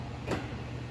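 A 2006 Lincoln Town Car's power door locks actuating with a single short clunk, faint against a quiet background.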